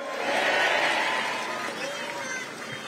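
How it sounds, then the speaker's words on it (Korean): A large crowd at an outdoor political campaign rally claps and cheers in a loud, sustained swell that peaks early and then settles into a steady roar. "박수 한번 보내주십시오"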